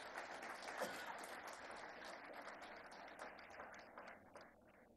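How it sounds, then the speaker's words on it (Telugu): An audience at a speech by CM Revanth Reddy applauds in a faint, distant patter that continues evenly for several seconds, then slowly thins out. "మనస్ఫూర్తిగా మీరు వాళ్ళని అభినందించడానికి చప్పట్లు కొట్టాల్సిందిగా"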